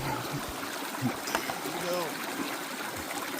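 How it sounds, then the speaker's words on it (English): Water running steadily through a gold prospecting sluice in North Idaho, a soft continuous trickle and wash with small splashes, faint and close throughout. "The sluice is running perfect"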